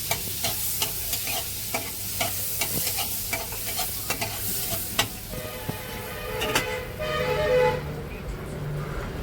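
Two spoons of butter melt in a hot wok, a moderate sizzle threaded with rhythmic taps and scrapes, while a car horn toots faintly from outside partway through.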